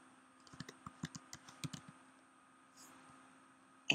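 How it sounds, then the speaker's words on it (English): Message typed on a Mac keyboard: a quick run of soft, close key taps in an uneven rhythm that stops after about two seconds, followed by quiet room tone and a sharp click at the end. "I'm going to add some text click on add text and I'm going to type my message"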